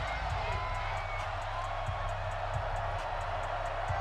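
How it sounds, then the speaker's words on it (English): A stadium crowd in a Madden game rises into a steady, broad cheering roar, a continuous murmuring wash with a low droning hum beneath. "I'm starting to hear the crowd stand back up."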